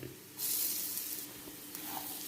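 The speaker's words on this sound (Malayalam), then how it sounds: "ഇനി ഇതിലേക്ക് നമുക്ക് തേങ്ങ ചേർക്കാം" Grated coconut frying in oil with roasted chili powder and turmeric for Kerala pothichoru, a soft close sizzle that swells as it hits the pan, then settles into a steady fry.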